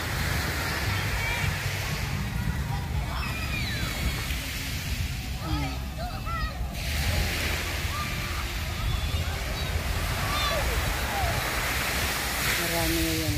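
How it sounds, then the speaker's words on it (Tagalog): Big ocean waves at Pulangdaga beach make a steady roaring wash of surf near the shore, continuous and loud, with a person talking over it and some birds or children faintly audible. "Malalaki ang alon."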